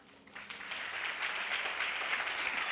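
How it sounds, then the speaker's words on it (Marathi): A church congregation at a sermon breaks into applause that swells from quiet to a full, steady wash of clapping, heard from a moderate distance. "एवढेच टाळ्या"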